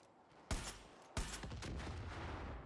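Rifle fire in the video game Far Cry 5: two sharp, loud shots about half a second apart, each trailed by a long rumbling echo and a steady crackling background of game noise.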